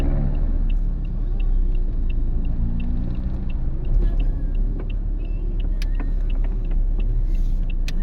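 Heavy road traffic rumbles steadily as many vehicles, including tricycles, pass along a busy street at New Year, with a deep continuous engine drone and scattered faint horn beeps and clicks throughout.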